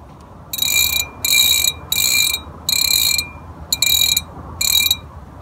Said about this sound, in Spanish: Sí, suena la carraca.